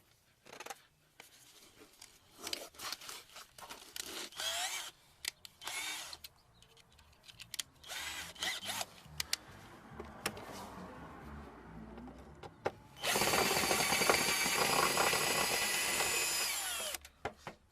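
A power tool takes out the bumper bolts on a 2004 Dodge Caravan. Short clicks and rattles come first, then a loud, sustained drill whir close by near the end, with no talking.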